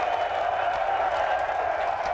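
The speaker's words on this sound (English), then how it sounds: "And what a cheer." Golf gallery at the Ryder Cup cheering steadily after a putt, a continuous broad roar of many voices held at an even level throughout, fairly distant and without individual words.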